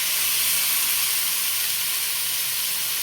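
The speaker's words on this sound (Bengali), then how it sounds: "এবারে টমেটোটা আমি এর মধ্যে দিয়ে দিচ্ছি।" Tomato tipped into a pan of hot oil while cooking dinner, giving a loud, steady sizzle and hiss that runs unbroken and close throughout, with no talking.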